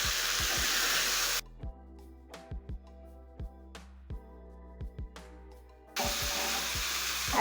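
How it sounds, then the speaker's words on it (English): Meat searing in a pan with cabbage cooking, stirred with a utensil: loud sizzling hiss that drops away mid-clip, leaving scattered scraping and clinking knocks, then the full sizzle returns. "So I'm going to give it a stir."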